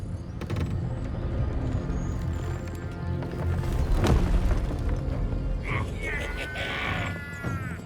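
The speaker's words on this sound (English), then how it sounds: "Cannon!" Cannon fire rings out in a Baldur's Gate 3 battle scene, a heavy boom near the middle rising out of a dense, loud din of clattering hooves, shouting and chaotic fighting.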